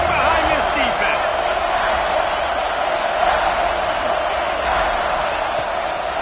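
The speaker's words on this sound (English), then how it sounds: "this crowd is getting behind this defense" A football stadium crowd at a TCU versus South Carolina game roars steadily for the defense on a big third down in the red zone, a dense, loud, continuous wall of cheering with some talk over it.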